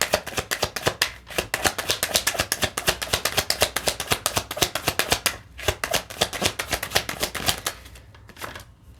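Tarot cards riffled and shuffled in close, rapid bursts of crisp papery flicks, with short pauses between runs and no talking.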